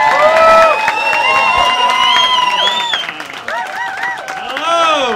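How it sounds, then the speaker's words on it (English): Comedy club audience at Hot Water Comedy Club applauding and whooping for an arriving comic, bright cheers and whistles over steady clapping, loud and continuous, with a host's voice calling over the crowd. "Applause at the whooping cheer."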